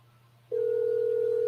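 A phone line tone sounds while a call is placed to a friend: after a quiet hum, a steady, unbroken electronic tone switches on abruptly and holds loud and clean to the end.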